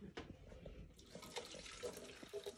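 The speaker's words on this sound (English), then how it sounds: "We're going to pour the liquid mixture." A liquid mixture for a chickpea and garlic sauce is poured into a food processor in a short, faint, uneven trickle with light splashes.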